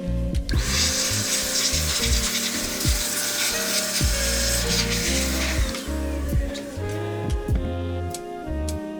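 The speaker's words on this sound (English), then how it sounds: "we're going to give this a quick air blowing" Compressed air blasts dust out of a Dell XPS 9510 laptop as a steady loud hiss up close, with knocking and rubbing handling noises scattered underneath.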